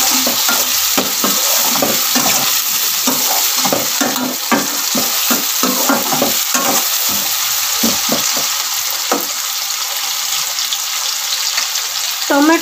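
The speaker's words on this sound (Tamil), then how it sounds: "தக்காளி, இதுவும் நல்லா வதங்கணும்." Tomato being stirred and sautéed in a pan for a noodle dish, with a steady close sizzle and repeated scraping stir strokes throughout.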